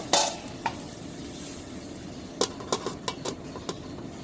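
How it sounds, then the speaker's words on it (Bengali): Potatoes sauté in a pan for a dried fish curry, giving a soft steady sizzle broken by a few sharp spatula scrapes and clacks against the pan toward the end. "আলু দিতে হবে, কষিয়ে নিব"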